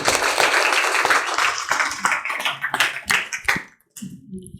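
Students in a residential coaching centre classroom break into loud applause, a dense burst of clapping that thins into a few scattered claps before fading out.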